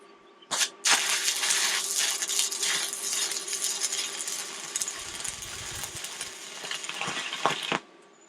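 Arc welding with a stick electrode, a loud continuous crackling buzz that strikes abruptly after a brief false start and runs steadily for several seconds before cutting off.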